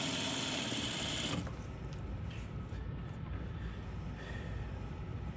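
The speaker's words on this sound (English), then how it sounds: "So I'm gonna go in here. And just top stitch on the edge," Sewing machine running steadily while top stitching along the edge of bias binding, a continuous close mechanical whir with a louder stretch at the start and no talk.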